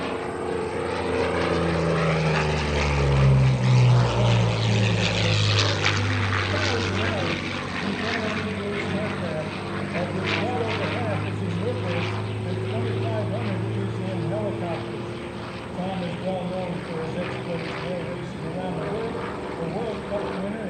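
P-40 Warhawk propeller fighter flying at an airshow, a loud steady engine drone rising and then easing as it passes, with an announcer talking over it throughout.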